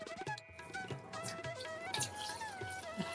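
Soaked lentils and grains being washed by hand in water, with splashing, sloshing and dripping in short bursts, close and moderately quiet.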